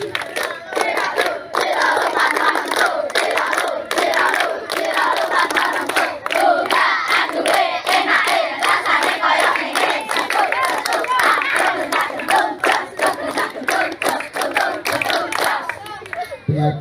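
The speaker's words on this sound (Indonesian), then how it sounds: "Yang menghadap ke timur tepuk pramuka." Schoolchildren perform the Pramuka scout clap chant in unison, sharp rhythmic hand claps interleaved with loud shouted group calls, close and energetic throughout, with crowd noise around them.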